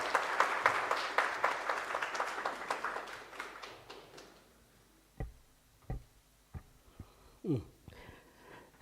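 An audience at an academic book discussion applauds, a dense round of clapping that fades over several seconds and leaves a few scattered claps and small bumps.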